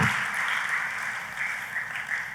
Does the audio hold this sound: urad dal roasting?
no